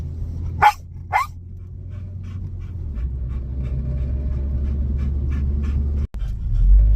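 A dog barks twice nearby, then a steady low engine rumble carries on with no more barking.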